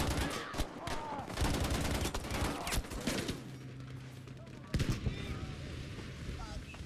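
Lewis gun machine gun fire in a Battlefield 5 multiplayer match: dense bursts of rapid gunshots and scattered fusillades, loud and mixed with other battlefield noise, with sharp isolated cracks standing out.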